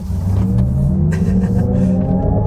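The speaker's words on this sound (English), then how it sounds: "put it up into the sport driving mode here, and let's turn down onto this back road and see how it accelerates" A 2025 Cadillac OPTIQ accelerating in sport driving mode on a back road, heard from inside as a loud, steady drivetrain rumble with a rising whine that climbs gradually throughout.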